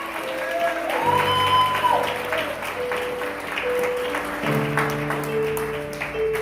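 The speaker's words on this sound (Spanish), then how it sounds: "Denle un aplauso al Señor esta mañana." A church congregation applauds during a Sunday morning service, a steady wash of clapping under sustained organ or keyboard tones, moderately loud and continuous.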